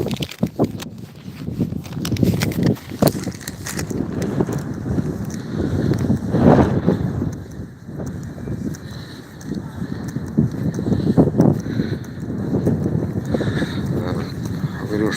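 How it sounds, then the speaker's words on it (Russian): Gusty wind buffeting the microphone outdoors in Kyiv, rumbling low thumps and rushes rising and falling over several seconds, with a voice speaking underneath at times. "опять ветер, наверное"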